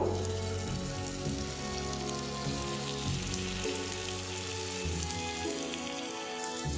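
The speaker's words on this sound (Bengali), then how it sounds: "এবারে এর মধ্যে বেসন আর বাঁধাকপির মিশ্রণটা দিয়ে দেব।" Cabbage mixed with gram flour batter fries in a pan greased with white oil, giving a steady, moderate sizzle like light rain that runs on without pause, with no talking.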